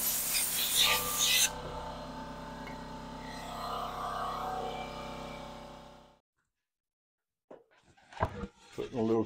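Hand chamfering the edge of a wooden marina village sign, a steady rasping rub for about six seconds, close and fairly loud, then silence followed by a few brief scraping strokes.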